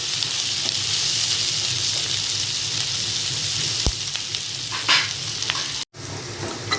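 Ingredients for paneer biryani are sautéed until brown, a continuous close sizzle of frying with occasional stirring clatters and a brief sharp knock near the end, without any speech.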